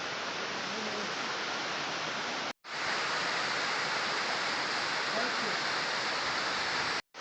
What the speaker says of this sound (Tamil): இதுதான் வந்து தேர்டு அருவி.